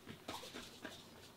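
A dog gives a few short, faint whimpers in quick succession, showing interest in a dinosaur-shaped slipper.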